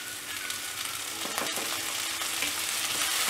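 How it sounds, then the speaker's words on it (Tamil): Onion, tomato and garlic sautéing in a pan with curry leaves while a Tamil kootu is being made, a steady close sizzle with faint stirring scrapes throughout. "நல்லா வதக்கி விடணும்."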